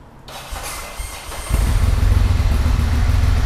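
A Kawasaki Z1000, Ducati 795 or Versys 650 motorcycle engine cranks and catches after a faint start, then settles into a loud, steady, smooth-running low rumble close by.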